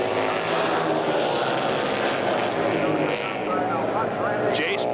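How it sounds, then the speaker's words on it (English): Dirt track racing motorcycles at the San Jose Mile slide through a corner at over 75 miles an hour, their engines a constant loud roar as a commentator talks over them. "Sliding those bikes around the corner at in excess of 75 miles an hour"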